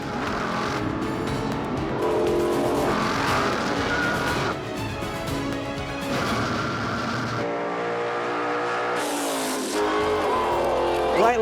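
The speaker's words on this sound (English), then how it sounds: "loses control of his 69 Chevelle" A 1969 Chevelle drag car loses control during a drag race, its engine roaring loudly with tires squealing and skidding, the pitch swerving and dropping before a sharp rising howl near the end; no talk is heard.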